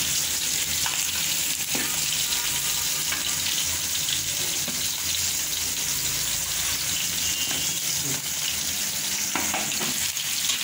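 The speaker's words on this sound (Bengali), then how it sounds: "মাথাটা আর একটু বেশি কড়া করে ভেজে নিচ্ছি" A hilsa fish head fries crisp in a pan of oil with a loud, steady sizzle and crackle that lasts the whole stretch. Faint stirring clicks come through, close up, with no talk.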